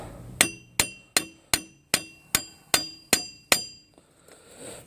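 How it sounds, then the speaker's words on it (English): A hammer strikes the center axle of a Trailblazer nine times in a steady, evenly spaced rhythm, each hit a sharp, close, ringing metallic clank, then the tapping stops. "The only thing I didn't do was tap the center axle."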